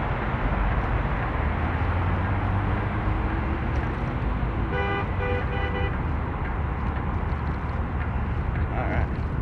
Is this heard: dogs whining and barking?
no